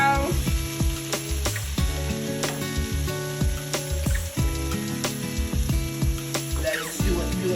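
Creamy Tuscan chicken sizzling in a pan as it is stirred around, steady frying crackle with scraping utensil strokes close by, no talking.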